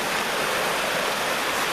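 Creek water rushes steadily in a wooded setting, a loud, dense, unbroken wash of flowing water heard close and alone.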